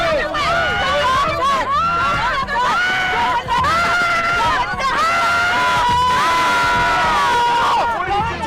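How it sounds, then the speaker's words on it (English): A dense crowd of protesters screams and shouts loudly and without pause, high piercing voices overlapping in a continuous, close, chaotic roar. "They were screaming extremely loud right in the guy's face."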